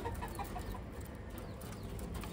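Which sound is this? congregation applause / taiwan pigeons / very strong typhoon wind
taiwan pigeons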